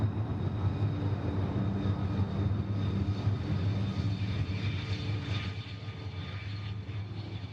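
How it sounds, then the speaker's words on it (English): A US Navy F/A-18 Super Hornet roars at an air show with maximum afterburner, a loud, continuous, rumbling jet thunder that holds steady throughout. "watch as Longshot selects maximum afterburner and rolls the aircraft 360 degrees while cleaning the gear and flaps up."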